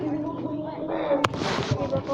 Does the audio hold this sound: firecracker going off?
yes